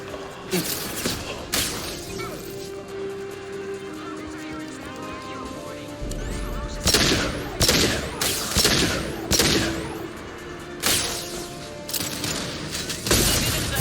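Video game gunfire from Mass Effect 2: repeated loud bursts of shots and crackling impacts, clustered in rapid volleys through the second half, with speech and game audio running underneath.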